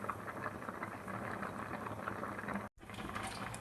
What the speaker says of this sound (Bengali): এবার কিছু দিলাম না, একটু ফুটুক।